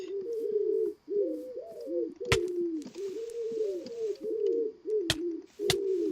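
Pigeons coo steadily in a video game, in overlapping, throaty rolls, with a few sharp clicks breaking in.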